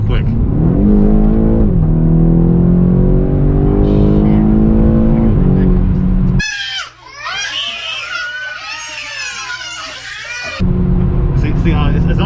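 A BMW X5M engine pulls hard under acceleration, its loud droning note climbing steadily in pitch for several seconds. A stretch of different, wavering cabin noise follows before the heavy engine drone returns.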